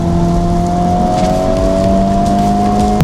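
A 2025 Honda Civic Type R engine snarls loudly from inside the car as the automatic rev-match blips the throttle on a downshift, with steady tonal drone and rising intake roar through the clip.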